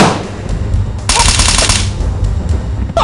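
Gunfire in the video game SWAT 3 comes as a loud, close burst of rapid automatic shots, with a dense crackle of rounds lasting about a second inside continuous rumbling noise.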